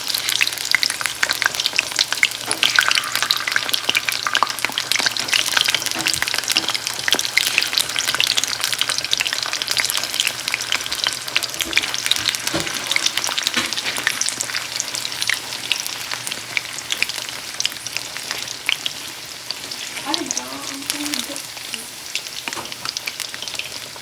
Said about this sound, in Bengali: এইভাবেই সব কাশ্মীরি পনিরগুলো ভাজা করে নেব।